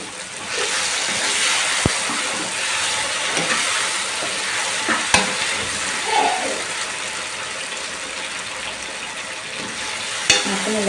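Bitter gourd and egg curry fries and sizzles in a pan with a steady hiss, broken by a few sharp clinks and scrapes of a stirring spoon, with occasional soft voice in the background.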